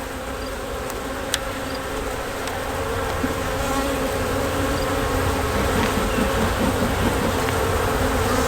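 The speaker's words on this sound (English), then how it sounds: "they are buzzing on my hand like mad" A dense, steady drone of honeybees swarming around an open beehive, close and loud, continuous throughout with a faint click or two and no talk.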